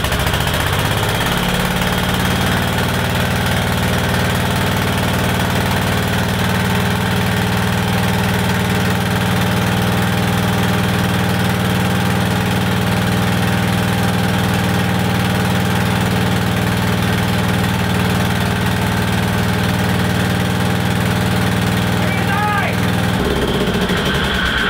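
A small engine fitted with a welded cast iron flywheel runs steadily through a test fire, a loud, constant low idle with vibration that cuts off near the end.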